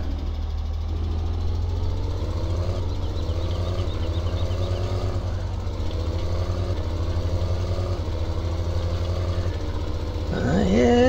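A video game tractor engine drones steadily under load, a low continuous rumble with shifting harmonic tones, rising briefly near the end.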